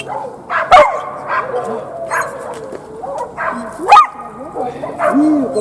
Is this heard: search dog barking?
yes